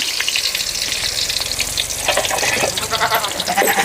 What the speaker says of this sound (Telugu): ఇప్పుడైతే సాసులు చిట్లిపోయినాయండి ఎర్రగడ్డలు అయితే వేసుకుందాం